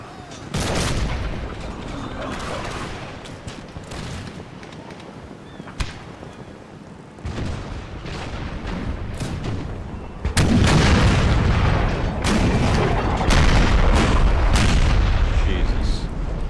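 Musket volleys and artillery fire from the Empire: Total War game boom and crackle in uneven bursts, growing heavier and more continuous in the second half, with talk over the battle.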